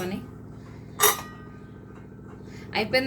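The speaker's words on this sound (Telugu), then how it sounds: "ఇదిగోండి, ఇది ప్రెషర్ కుక్కర్ మూత పెట్టేస్తున్నా" Metal pressure cooker lid being fitted onto the pot in a home kitchen while cooking lunch, with a sharp metallic clank near the start and another scrape and clink toward the end over a low background hum.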